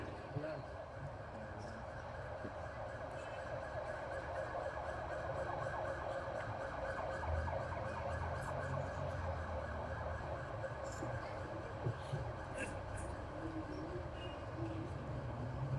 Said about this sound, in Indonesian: Ambulan ya. Kita hormati ambulannya.